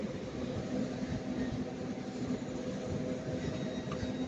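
TransPennine Express class 802 train at Manchester Piccadilly station, a faint steady engine hum and rumble under distant station ambience, with no talk.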